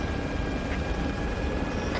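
A helicopter in the Arma 3 game gives off a constant, dense rotor and engine roar that stays at the same level for two seconds, with no voices heard.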